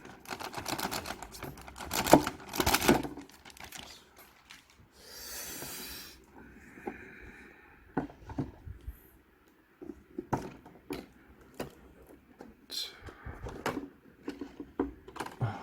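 Plastic wrap is peeled and crinkled off the box of a Land Rover Defender 110 Camel Trophy support unit model car, dirty version, with close, sharp crackles and rustles in irregular bursts and pauses.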